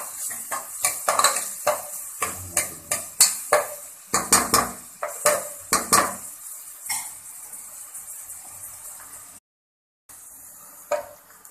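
Onion and garlic sautéing in a pan for bolognese sauce, heard as a steady run of sharp spoon-on-pan scrapes and clinks over a faint sizzle, then a brief silence and a final clink.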